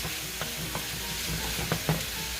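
Ground beef with garlic fries in a pan under a steady close hiss, with a few soft scrapes and taps of stirring.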